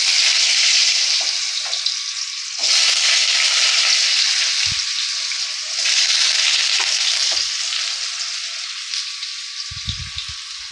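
Potatoes dropped into hot oil with black cumin (kalo jeera) in a pan burst into a loud, close sizzle that swells twice as more pieces go in, then settles into steady hissing with a few soft knocks and no talking.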